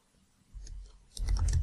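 Short burst of typing on a computer keyboard, a few soft close-up key clicks that quicken into a denser cluster toward the end.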